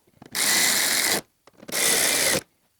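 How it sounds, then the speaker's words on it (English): A power tool runs in two bursts of about a second each, separated by a short pause, while it drives the bolts on a Mazda Miata tail light. The whirring is steady and close, with faint clicks in between and no talk. "Now we could tighten out 2 bolts."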